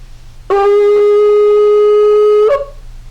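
A single long, steady shofar blast, a tekiah, rings out for about two seconds, bright and buzzy, ending with a slight upward break.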